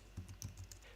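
Soft, quiet computer keyboard typing: a quick run of light key taps in an uneven rhythm, close but faint.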